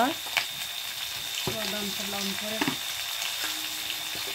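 Local village chicken curry frying in a pan, a steady close sizzle running throughout with a few soft clinks, while a voice talks briefly over it partway through.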